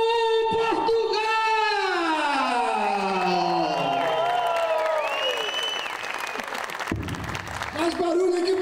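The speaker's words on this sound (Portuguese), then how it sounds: "Uma salva de palmas, o nosso querido Diogo Portugal!" A stand-up comedy crowd in Teresina greets comedian Diogo Portugal with dense, sustained applause and loud whoops and cheering voices, steady throughout before dipping briefly near the end.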